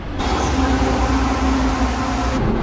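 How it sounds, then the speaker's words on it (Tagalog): An LRT light rail train in Manila runs loud and close, giving a steady broad rumble and rolling roar with a faint high whine that holds for the whole stretch. "sasakay tayo ng tren, LRT 1, papuntang Central Station"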